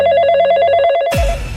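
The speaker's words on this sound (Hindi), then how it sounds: "जब भी मेरा मूड बनता है तभी तुम्हारा फोन बजने लगता है।" A mobile phone rings loudly with a repeating electronic ringtone, warbling tones pulsing steadily for about a second before cutting off into a burst of broadband noise; no talking.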